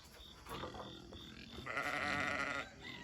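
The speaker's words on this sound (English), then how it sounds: "Those are our sheeps and pigs. They're very needy." Sheep on a small family farm bleat close by in a needy chorus, with a louder, sustained bleat rising mid-way over shuffling and faint movement; pigs share the pen but are not distinctly audible.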